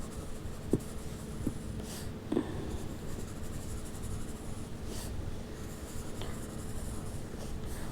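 A pencil sketching quick, rough wavy lines on paper for a fashion design drawing, a soft continuous scratchy rubbing close to the mic, with a few light taps as the pencil meets the page.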